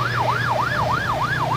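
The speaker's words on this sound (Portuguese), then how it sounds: "a sirene começa a tocar" A wailing siren rises and falls in quick, regular sweeps, loud and continuous over a low rumbling engine.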